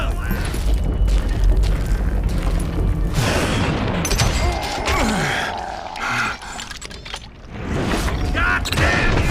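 An explosion in the Wild West shooter Call of Juarez: Gunslinger gives a loud, heavy boom, followed by a dense roar of rumbling debris and scattered shots that fades briefly and then swells again.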